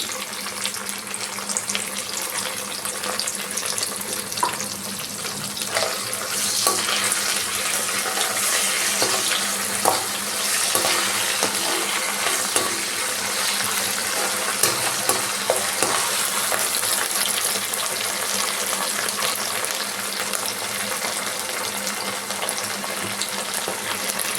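Onion and ginger garlic paste frying in a pan for a Sunday fish stew, a continuous dense sizzle with scattered crackles and occasional stirring clicks, steady throughout and close, with no voices.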